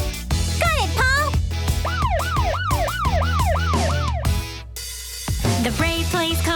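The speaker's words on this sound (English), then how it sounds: "Police car siren goes Red, blue, wee wee you, all through the town." A cartoon police car siren in a children's song wails in repeated rising and falling sweeps over a loud, bouncy musical backing, then the music carries on briefly without it.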